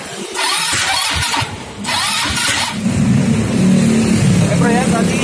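An automatic four-wheeled scooter that will not start is cranked with its electric starter in repeated loud bursts that whir and catch without firing. A rough idling-like rumble follows, with people talking over the noise.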